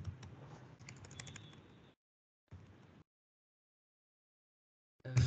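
Computer keyboard typing in quick bursts of close, crisp key clicks, with a pause of silence between short runs and a louder clatter at the end.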